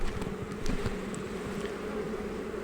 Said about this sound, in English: Since there's so many bees balling on the bottom of this, I'm just going to kind of shake them off.